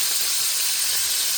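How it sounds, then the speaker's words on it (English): Garlic sizzles in oil in a pan, a steady bright hiss filling the short stretch without pause, close and fairly loud. "So this is really sizzling."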